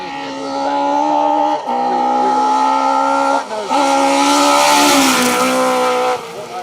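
Rally cars at a BTRDA Rally stage blast past with engines screaming at high revs, holding steady tones that dip briefly at gear changes. Loud, close and continuous, with tire squeal mixed in.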